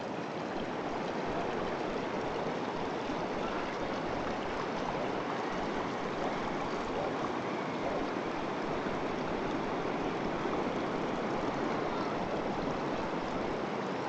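Water rushes through a broken dam at a fort in a video game, a dense, unbroken roar that holds at the same loudness throughout, with no voices.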